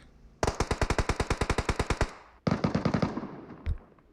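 Automatic fire from a Mini rifle in a PUBG-style battle royale game, two rapid bursts of sharp, evenly spaced shots, the first about twenty rounds long and the second shorter, loud and close, followed by one single shot.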